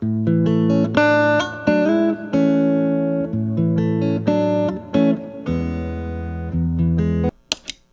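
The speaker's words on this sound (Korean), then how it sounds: "일단은 리버브만 켜놓고 한번 소리를 들어볼게요" Electric guitar played through a Fender-amp Bluetooth speaker with a reverb pedal on, ringing sustained chords and single notes one after another, loud and close, ending in a brief burst of noise.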